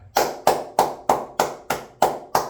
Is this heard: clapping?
yes